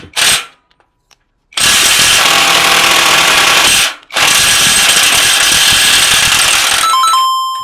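A DongCheng DCPB1218 cordless 1/2-inch impact wrench rated at 1218 Nm hammers loudly in three bursts, a short first blast, then two long sustained runs of rapid impacting separated by a brief pause, with no talking.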